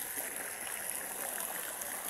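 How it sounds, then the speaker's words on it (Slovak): Water from a fountain streams and splashes steadily outdoors, a soft, even hiss close by with no voices. "To je dobrá fontána."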